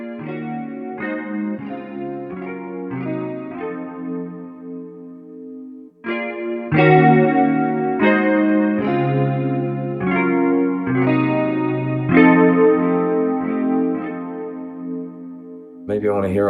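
An electric guitar preset from the Buttr guitar plugin plays a chord progression, with strummed chords ringing in repeated bars under a chorus-like shimmer, loud and steady after a softer opening.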